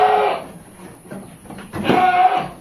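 A goat being offered for sale bleats twice, close and loud, with a short pause between the two cries.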